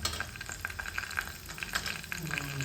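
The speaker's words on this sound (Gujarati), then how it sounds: "તો આપણું તેલ હવે આવી ગયું લાગે છે. તો તેમાં આપણે નાખી દીધી છે રાઈ, અને હવે નાખી દઈએ આપણે જીરું" Mustard seeds and cumin sizzling in hot oil, a steady crackling fry with small popping spatters throughout, close and even in level.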